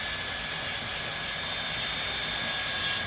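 Dremel rotary tool grinding and shaping a stone, a steady high-pitched whine with a continuous gritty hiss, close and unbroken throughout.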